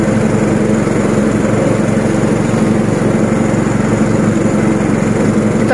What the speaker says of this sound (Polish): sobie koszę tą trawę.